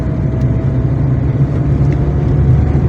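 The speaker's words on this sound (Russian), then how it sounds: "Одно-две машины видно." Cars on a cold winter village road produce a steady low engine and tyre rumble that holds at a constant level throughout, with no distinct single pass-by standing out.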